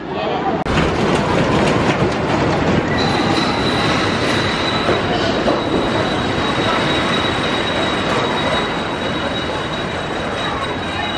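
A roller coaster train on the Stampede coaster at PortAventura World in Salou, Spain, rumbles loudly and continuously along the track, with a steady high-pitched wheel squeal coming in partway through.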